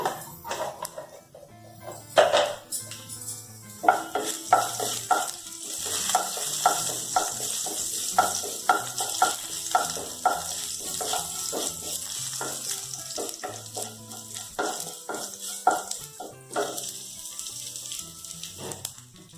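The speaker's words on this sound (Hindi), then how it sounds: "देन दालचीनी पकेली देन गोटा जीरा पकेली" Cinnamon and whole cumin sizzling in ghee in a pan, a steady close crackle with frequent scraping stirs and clinks of a spoon against the pan, under faint tonal music.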